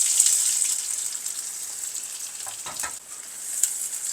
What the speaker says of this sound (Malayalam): വെളിച്ചെണ്ണ ചൂടാകുന്നുണ്ടെങ്കിൽ കടുകിടാം കടുക് പൊട്ടാൻ തുടങ്ങുന്ന ഉടനെ തന്നെ നമുക്ക് കൊച്ചുള്ളി ഇടാം